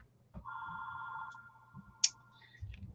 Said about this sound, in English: Go away, phone, go away.